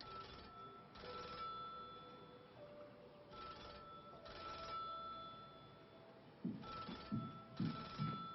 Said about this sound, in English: I need Betty to answer the phone